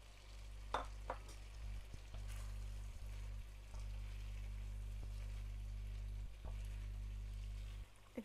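Fried chicken pieces sizzle steadily in a pan of sweet chili sauce with green chilies, a continuous close frying hiss with occasional stirring clatters and spatters throughout.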